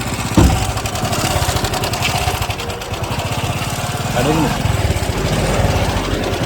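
A motorcycle engine idles in neutral after being submerged in water, giving a loud, close, steady throbbing rumble with a brief voice heard over it.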